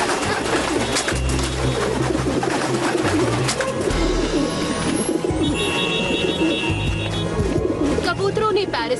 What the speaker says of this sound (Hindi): कबूतरों ने पेरिस पर कब्जा कर लिया है।